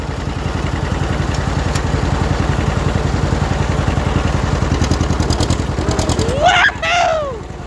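A tractor engine chugs in third gear with a fast, even rhythmic knock, loud and close, before a voice whoops over it at the end.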